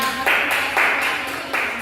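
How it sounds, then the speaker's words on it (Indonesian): Classroom students clap for a classmate in a few short, loud, rhythmic bursts of group applause, close by and without talk. "beri tepuk tangan dulu kepada"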